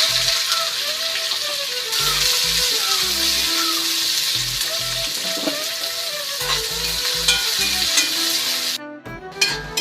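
Onions and mustard seeds frying in oil in a pan for a bitter gourd stir-fry, with a steady close sizzle under soft background music and a few clattering sounds near the end.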